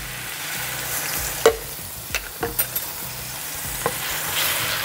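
Onion and garlic sizzling in hot oil in a pot, a steady frying crackle with a few sharp clinks and scrapes of a spoon stirring, close and without talk.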